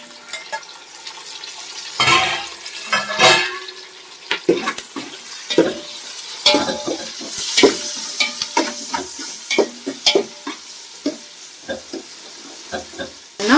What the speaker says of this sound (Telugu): బాగా వేగిన తర్వాత టమోటాలు వేసుకోవాలి.